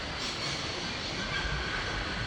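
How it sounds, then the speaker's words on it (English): A train in the Syberia video game pulls out of a station. It makes a steady, dense rumble of rolling wheels and carriages that carries on throughout, fairly loud, with no talking. "My train has left your station, so it won't disturb your peace and quiet anymore."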